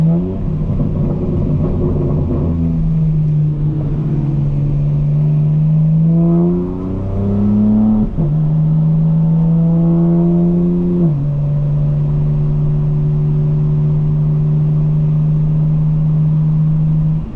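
A 2025 BMW M4 engine revs and climbs through the gears while driving, with rising, falling tones and shift breaks before it settles into a steady loud cruising drone. No one talks.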